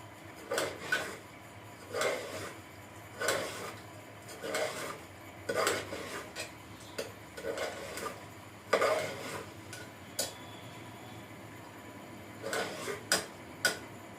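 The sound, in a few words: stirring rice with chicken, dry fruits and spices in a pot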